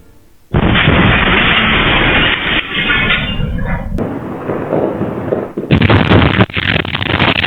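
A massive, sustained roar of exploding grand-finale fireworks in a factory accident erupts suddenly and rumbles on with crackling bursts, surging again louder near the end, heard from a distance.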